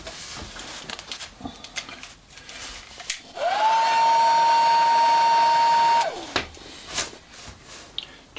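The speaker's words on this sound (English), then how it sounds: "if I apply a heat gun" A heat gun warms thick resin for fuselage repair, its steady whine with a fixed pitch switching on, holding loud and even for about three seconds, then cutting off, with faint handling noise before and after.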